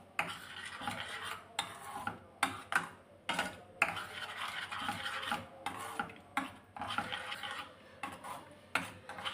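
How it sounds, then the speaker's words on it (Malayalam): Curd stirred into cucumber pachadi in a bowl, with rhythmic scraping and rubbing strokes of a spoon against the bowl, close and repeated roughly every half second with brief pauses, without any talking. "ഞാൻ ഈ തൈര് ഇതിലേക്ക് ഒഴിച്ചു കൊടുക്കുകയാണ്. ഇനി ഇത് നന്നായി ഒന്ന് മിക്സ് ചെയ്യാമേ."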